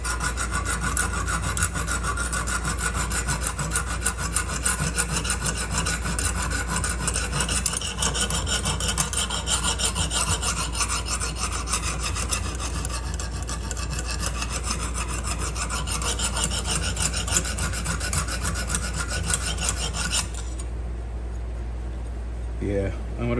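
Knife being honed on a Lansky sharpening system, a continuous close rasping rub of stone on steel in repeated strokes, stopping near the end as someone talks over it.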